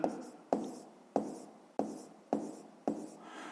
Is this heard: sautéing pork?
no